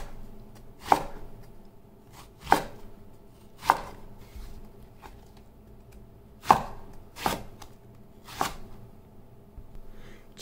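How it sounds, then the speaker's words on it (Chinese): A knife cuts eggplant into strips on a board, giving six sharp, separate chops at irregular intervals, each one close and crisp against a quiet background. "茄子对半切，然后切成条。"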